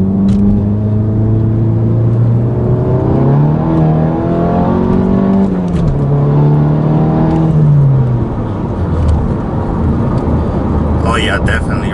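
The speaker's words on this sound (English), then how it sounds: "So for now, the car seems to be running okay." A Volkswagen MK7 GTI engine running after being fuelled with E85 and suspected of a misfire from a bad coil, a loud steady drone with shifting pitch as the engine note rises and falls, under continuous talk.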